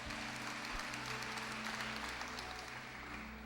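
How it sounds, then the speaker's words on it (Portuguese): Steady applause rises from a Catholic audience listening to a preacher: dense, even clapping from many people, somewhat faint and distant, unbroken from start to finish. "Aplauda com força, católico."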